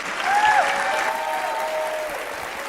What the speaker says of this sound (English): give a big round of applause as we welcome Chantilly